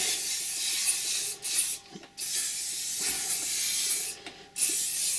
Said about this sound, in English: Just spray it all on.